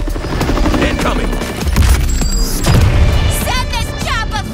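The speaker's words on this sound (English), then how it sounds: "Send this chopper flying!" Helicopter rotor roar during intense co-op combat in the Suicide Squad Kill the Justice League video game, loud and continuous amid explosions, gunfire bursts and shouted character dialogue.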